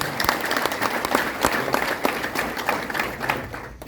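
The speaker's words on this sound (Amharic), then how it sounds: "አጨብጭቡ።" A church congregation claps together in a dense, continuous burst of applause, close and lively, with faint voices mixed in.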